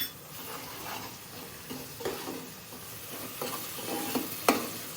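Garlic paste sizzling in hot oil while stirred for a khichdi tempering, a steady close frying hiss with scraping spoon strokes and a few small metallic clinks, no voices.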